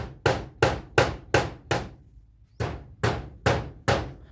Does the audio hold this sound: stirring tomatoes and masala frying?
no